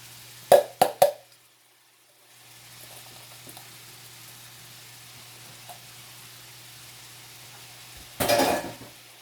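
Three sharp clanks of a utensil against a pan give way to a faint, steady sizzle of one large onion frying, then a louder scraping stir near the end; no talking.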